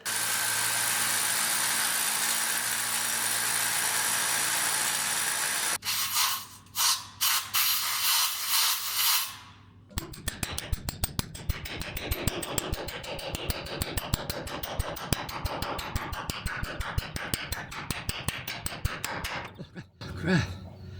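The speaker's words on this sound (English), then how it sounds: "All I've got to do now is drill." A hammer drill bores into concrete for anchors, its rapid percussive hammering running loud and close for about ten seconds after a stretch of steady mechanical whirring and a few brief starts and stops.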